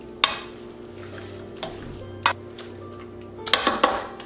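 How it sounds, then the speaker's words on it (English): Beef being tossed in a marinade of fish sauce, ginger, garlic, five-spice and brown sugar for Vietnamese beef stew: a few sharp, scattered clinks and scrapes, then a quick cluster of clatters at the end. "we're just going to give this a good toss so that everything is thoroughly coated"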